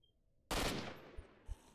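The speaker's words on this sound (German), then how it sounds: "Aha, wunderschöner Headshot." A single loud, sharp gunshot in Stalker: Shadow of Chernobyl breaks a near-silent moment, with a decaying echo and two soft thumps afterward.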